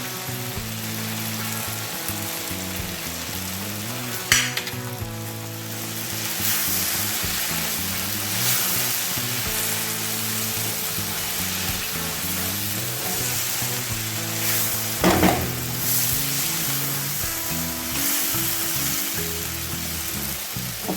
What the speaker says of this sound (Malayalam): നമുക്ക് നന്നായിട്ട് ഇളക്കി യോജിപ്പിക്കാം.